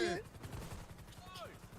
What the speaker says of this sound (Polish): strzały, oddał strzały!